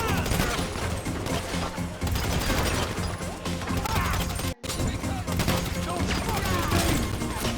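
Rapid bursts of military-grade gunfire from a video game, dense and loud with crashing impacts, nearly continuous with one brief gap partway through.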